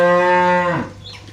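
Jersey cow at a cattle sale giving one loud, close moo with a strong harmonic tone that fades out after under a second.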